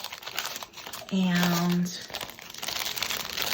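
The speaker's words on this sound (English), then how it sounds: "So I have my little cellophane bag here" A small cellophane gift bag crinkling and rustling close by for a few seconds, with a person talking around it and a brief hum in the middle.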